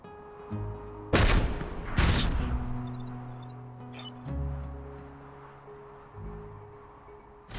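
Weapon fire in the video game Into the Breach as a mech shoots a scarab: two sharp loud blasts in quick succession over game music, followed by electronic chirps and a low droning tone.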